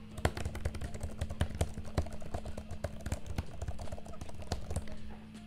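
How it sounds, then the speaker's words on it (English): Typing on a budget clicky keyboard made as an iPad Magic Keyboard alternative, a steady run of quiet, close key taps at an even pace with no talk. "It is still very comfortable, very, very clicky."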